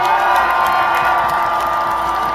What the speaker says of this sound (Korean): 다시 한번 우리의 대통령 이재명에게 큰 박수와 함성을 부탁드립니다